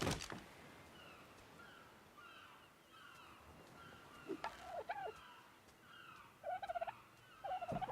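Birds in the Ark video game give faint, repeated gobbling calls in short bursts over a quiet ambient background, with no voices present.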